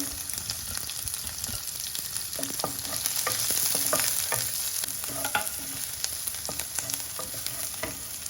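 Mustard seeds, cumin and onions fry in about two tablespoons of hot oil, a steady close sizzle broken by crackling pops and the scrape of a stirring spoon against the pan, with no talking.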